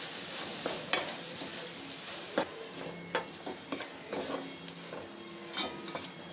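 A mixture with grated vegetable cooks in a pan while a spoon stirs it over and over, giving repeated close scrapes and taps over a soft sizzle, with no one talking.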